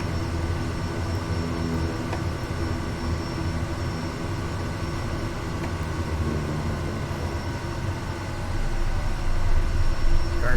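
Kodiak 100 turboprop engine shutting down in Microsoft Flight Simulator, a steady droning whine with a constant tonal hum that swells slightly louder near the end.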